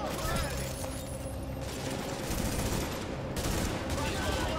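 Rapid, continuous gunfire from the video game The Division, dense automatic bursts with short breaks, fairly loud and running under excited player talk.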